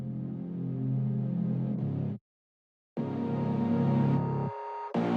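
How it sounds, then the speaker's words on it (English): Electronic build elements bussed together and swept upward through a DGM filter, two rising filtered passages separated by a sudden silent gap, moderately loud with no voices. "So the build elements which filter up together sound like this."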